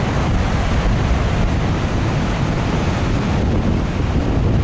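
Steady roar of strong wind buffeting the microphone over ocean surf at a beach near an amusement pier, loud and unbroken with no distinct wave breaks.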